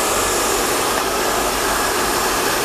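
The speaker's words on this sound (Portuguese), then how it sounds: "Pressiona um pouquinho com o secador." A handheld hair dryer blows steadily as hair is styled and a fringe is pressed flat, a loud, even rushing roar that continues without a break from start to finish, with no talking over it.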